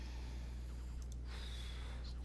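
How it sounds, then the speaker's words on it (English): Heavy, raspy breathing from a character in the space-survival game Stationeers, continuous across the clip over a steady low mechanical hum. "Heavy breathing is annoying."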